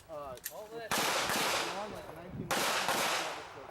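Pistol gunfire at an IDPA shooting match stage at a wildlife club range, with a loud sharp shot near the start and another at about two and a half seconds, each ringing out over a busy, reverberant background.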